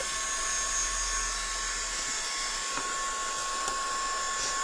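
A heat tool or dryer blows steadily at close range over mixed media craft work with Pentart materials at the drying stage, a continuous airy whir with a faint tonal hum, running alone without talk.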